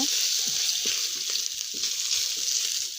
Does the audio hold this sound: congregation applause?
no